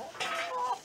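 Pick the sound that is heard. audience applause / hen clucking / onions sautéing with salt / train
hen clucking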